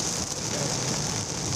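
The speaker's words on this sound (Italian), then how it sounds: "Pioggia battente" Heavy pouring rain beats down steadily on surfaces during a Saturday downpour in the Treviso area of Italy, a dense, continuous hiss with no pauses.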